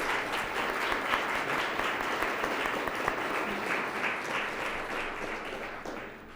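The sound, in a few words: applause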